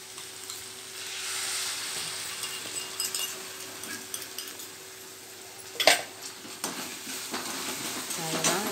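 A spoon stirs a cornflour slurry into prawn Manchurian in a pan, with soft scraping and light sizzling, steady and close, plus a sharper clink of utensil against the pan near the end.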